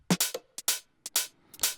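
Filtered group of layered drum top loops in a house track, playing as bright percussive hits in an uneven, syncopated rhythm with short gaps between bursts, up close and alone.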